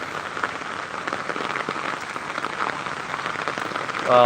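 Rain falls steadily on a village home in Netrokona, a dense, even hiss of drops that continues throughout, with a brief brighter tonal sound near the end.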